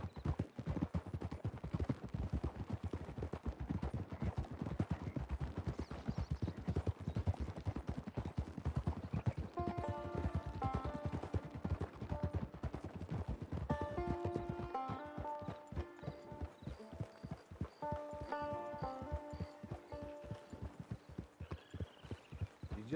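Horse hooves gallop in a fast, steady clip-clop rhythm in Red Dead Redemption 2 Online, close and continuous throughout, with musical tones rising in the background partway through.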